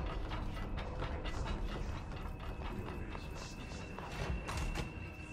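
A door mechanism in the video game Control grinds and ratchets through a series of mechanical clicks and clunks, with gear-like rattles and a faint thud, moderately quiet and continuous over several seconds.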